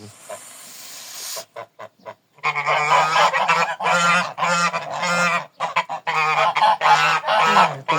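Geese honk loudly and repeatedly at close range, a dense, overlapping chorus of nasal calls after a brief hissy noise at the start.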